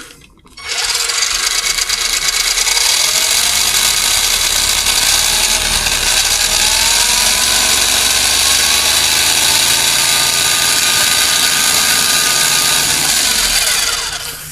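A Hosim Xinlehong 9137 1:16 scale 4WD RC desert racer's electric motor runs at half throttle, giving a loud, steady high-pitched whine that holds almost unbroken for the whole stretch with faint pitch wavers.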